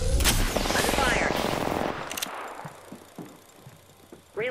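Rapid automatic gunfire in Apex Legends Arenas, a loud close burst of shots for about two seconds that fades into scattered quieter impacts and game sounds, with a sharp sound at the end.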